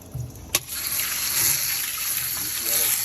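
A garden hose sprays water into a salt water pool's filter to flush it out, a steady close hissing rush of water running for a few seconds after a sharp knock, with voices talking over it.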